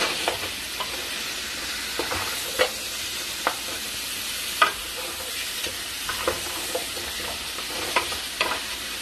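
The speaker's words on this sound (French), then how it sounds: "Je mélange bien maintenant." Meat being stirred in a pot for an Ivorian red-oil okra sauce, a steady soft sizzle with scattered scraping clicks of the spoon against the pot, close and fairly quiet, no talk.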